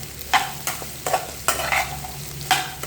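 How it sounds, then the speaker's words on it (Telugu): Onion and cluster bean pieces fry in a pan while being stirred, a steady soft sizzle broken by about five sharp scraping strokes of the spoon, close and loud. "ఉల్లిపాయ వేసిన వెంబడే మనం కట్ చేసి పెట్టుకున్న గోరుచిక్కుడు ముక్కలు కూడా వేసుకోవాలి"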